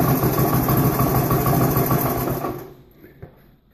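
A Honda US90 ATC three-wheeler's small engine runs with a loud, close, busy putter that cuts off abruptly after a few seconds, leaving quiet with a single faint knock.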